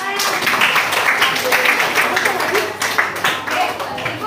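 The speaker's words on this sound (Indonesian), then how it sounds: "Tepuk tangan untuk semuanya." Seventh-grade students in a school science laboratory clap together. Their hands patter in quick, uneven bursts close by, with some voices mixed in among the clapping.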